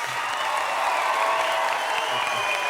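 Studio audience applause on a Turkish TV talk show after a live music performance, a continuous dense wash of clapping and crowd noise with a faint tonal layer underneath.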